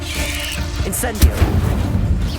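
Incendio fire spell cast in Hogwarts Legacy, a sharp fiery burst near the middle with a booming low thump, followed by crackling rumble over steady game ambience; a voice may be faintly present.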